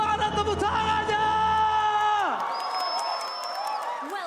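Arena crowd at a Mobile Legends MPL esports match cheers and applauds loudly, a dense roar of shouts and whoops that swells and then eases off over a few seconds.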